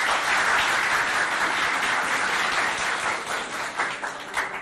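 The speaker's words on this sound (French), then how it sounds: "Les élèves d'ici, applaudissez pour eux." Pupils at a school contest clap for a rival school, a loud sustained wash of crowd applause that carries evenly before thinning a little toward the end.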